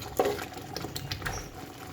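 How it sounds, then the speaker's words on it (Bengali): Wild taro ghonto with fish head fries down in a pan, giving a soft, steady sizzle with light patter and small pops throughout, close and fairly quiet, with no talk. "একটু ঘন্টটা একটু এখন কষায় নিচ্ছি।"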